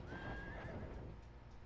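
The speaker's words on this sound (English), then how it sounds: "Oh, I hear a horse." A horse in the video game Battlefield 1 lets out a loud, close whinny that rises and falls in pitch, over a rumbling low background with faint hoof sounds, and no one talks.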